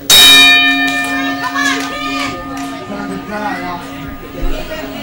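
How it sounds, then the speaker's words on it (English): A bell clangs sharply to open a no-rules main event wrestling match. One loud strike rings on with long, sustained overtones as an excited arena crowd chatters and a voice talks underneath. "Ring that bell."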